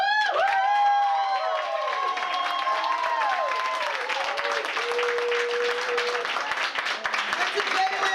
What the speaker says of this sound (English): I want to just give a big, huge round of applause again to Phoenix.